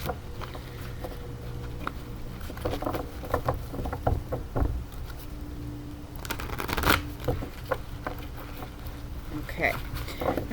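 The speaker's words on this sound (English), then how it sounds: "One more shuffle." A deck of cards, used for a yearly energy reading, is shuffled in repeated riffling bursts with soft flutters and taps, close and fairly quiet, while a person talks intermittently in the background.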